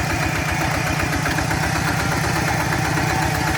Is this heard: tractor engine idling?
yes